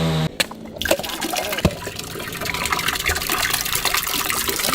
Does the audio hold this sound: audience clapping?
no